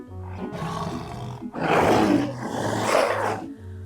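A tiger gives two long, deep roars in close succession, loud and close, heard alone with nothing else over them.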